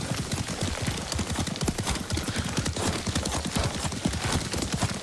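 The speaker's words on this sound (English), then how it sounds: "Lord Sakai taught me to ride a horse." Hooves clip-clopping steadily at a riding pace in the video game Ghost of Tsushima, a dense, loud, continuous run of close hoofbeats with no speech.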